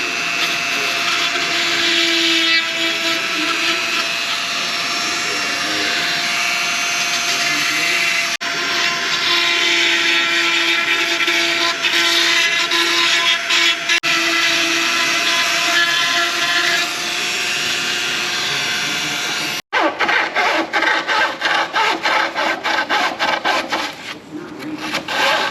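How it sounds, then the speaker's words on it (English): A Dremel rotary tool whines against a deer head form, cleaning tear ducts, nostrils and lips for a whitetail mount. It grinds in close, steady bursts with short pauses and rapid scraping toward the end. "he's gonna take it to Dremel, cleaning out the tear ducts, nostrils, all the lips"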